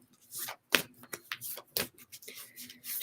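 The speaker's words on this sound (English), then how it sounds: "Shuffle, shuffle, shuffle, shuffle." Tarot cards shuffled by hand in a series of quick, close, papery riffles and slaps with brief pauses between them, no talking.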